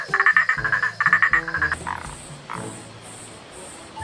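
A frog croaks in a near, loud series of rapid pulsed calls, two bursts in the first two seconds, followed by quieter outdoor ambience with fainter croaks.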